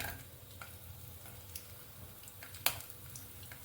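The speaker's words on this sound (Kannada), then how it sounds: "ಎಣ್ಣೆನ ಹಾಕ್ಕೋತಾ ಇದ್ದೀನಿ. ಮೊದಲಿಗೆ ಎಲ್ಲನೂ ಹುರ್ಕೋಬೇಕು." Garlic frying in about two teaspoons of hot oil in a pan for a simple onion chutney, a soft continuous sizzle with faint crackles and one sharp pop near the end, no voices.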